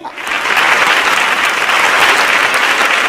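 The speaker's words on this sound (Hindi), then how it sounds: "अच्छा, एक दफा फिर तालियां बजाइए" Loud, dense applause from a large crowd, sustained and even from start to finish.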